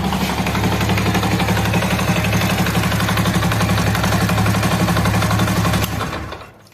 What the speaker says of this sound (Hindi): तो फ्रेंड्स ये देखिए बाइक को मैंने किया स्टार्ट।